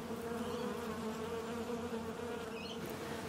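Hornets buzz in a continuous close drone with a low steady hum and slight wavering pitch, loud and without pause.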